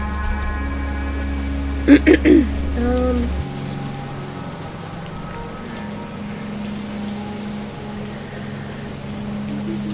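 Steady rain patters and hisses throughout, with a low hum and a brief rise of voice-like tones early on before settling into the even downpour.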